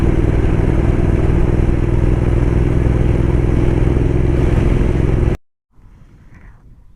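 A touring motorcycle riding along a road, with a loud steady engine drone and rushing wind roar that cuts off abruptly, leaving a quieter low rumble.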